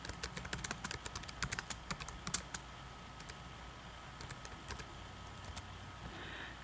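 Fingers type on a computer keyboard in quick, irregular bursts of clicking keystrokes, dense at first, then pausing before a few sparser taps, fairly quiet and close.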